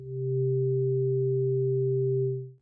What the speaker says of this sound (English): Turn up the chaos amount. We hear some higher harmonics in the sound and see a more complex shape.